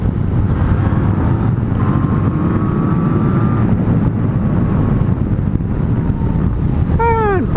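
A Yamaha Tracer 900 GT motorcycle ridden on twisty roads, its engine droning under heavy, continuous wind rush at close range, with a brief rising whine near the end and no talk.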